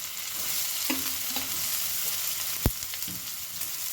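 Chopped onion and cumin seeds fry in a pan for a dal with spinach, a steady close sizzle with a few stirring scrapes and one sharp clack partway through.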